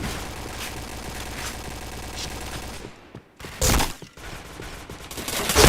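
Rapid automatic gunfire from a shooter video game rattles in a dense, continuous stream, breaks off briefly, then returns in a louder close burst followed by more firing.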